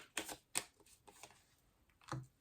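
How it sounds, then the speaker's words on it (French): Tarot cards drawn and laid down during a Scorpio reading, giving a few quiet crisp snaps and slides spaced apart, with near silence between them. "on va tirer les dernières cartes pour vous"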